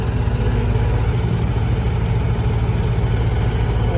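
A tuk-tuk's engine idles in neutral, a loud, close, steady low rumble with a fast even throb that holds unchanged throughout, with no talking.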